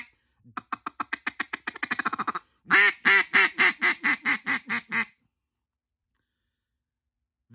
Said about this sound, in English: the Cloud Jacobs tribute call, the Weirdo, one of my absolute favorites